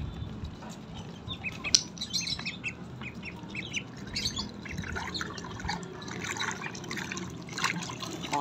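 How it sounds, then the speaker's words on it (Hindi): Water trickles and splashes as it is poured into a Siberian Husky's bowl outdoors, a soft steady flow running for several seconds while birds chirp and squawk nearby. "पानी डाल दिया इनको"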